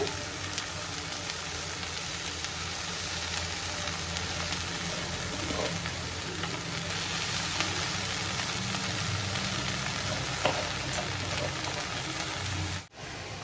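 Steady sizzling of amaranth greens sautéing in a hot pan, a continuous crackling hiss with no voices, ending in a brief pause.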